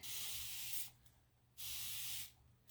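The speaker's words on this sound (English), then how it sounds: "So my fine mist sprayer" Two long bursts from a fine mist spray bottle, each lasting under a second, with a short pause between, close and loud with a steady airy hiss.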